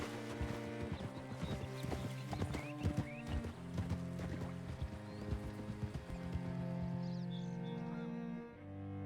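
Horse hooves clip-clop steadily in Red Dead Redemption 2, a continuous rhythmic trot over a layered musical score, with no talk.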